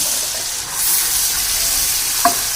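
Boiled mash dal poured into hot masala in a pan, making a steady, close frying sizzle with a soft hiss throughout and a brief clink near the end.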